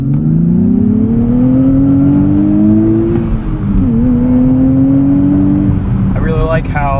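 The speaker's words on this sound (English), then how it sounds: "Engine's still a little bit coarse and rough sounding, but it is smoother than the 370's V6." A 2023 Nissan Z's V6 heard from the cabin, its coarse, slightly rough engine note rising steadily under load, dipping briefly, then climbing again, loud and continuous with a faint voice near the end.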